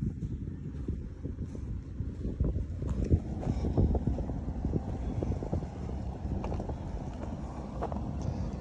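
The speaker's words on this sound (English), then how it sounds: "A little bit of wind." Wind blowing at a bayfront park on a seaweed-strewn shore, a steady low rumble of gusts buffeting the microphone with occasional stronger bursts, close and continuous, with no talk.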